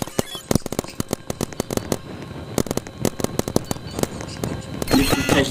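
Rapid video-game gunshots crack out in a fast, irregular volley of sharp reports, some clustered and some spaced apart, loud and close, ending in a denser burst.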